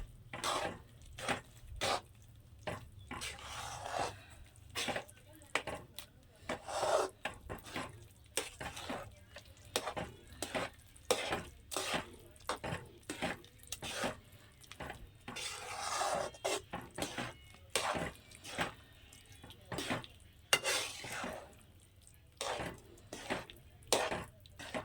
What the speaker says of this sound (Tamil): இந்த மாதிரி ஸ்டவ் ஆஃப் பண்ணிவிட்டு நீங்கள் கலந்து விட்டுட்டே இருந்தீங்கன்னா மாவு நல்லா மிக்ஸ் ஆகிடும்